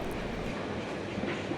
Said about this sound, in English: I'll be travelling up to Rockhampton on the electric tilt train